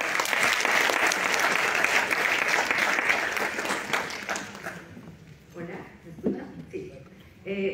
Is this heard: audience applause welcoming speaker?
yes